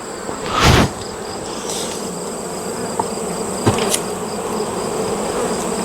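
Honeybees buzz steadily around an opened beehive box during hive inspection, a continuous close droning hum with a brief louder swell near the start and a few faint knocks.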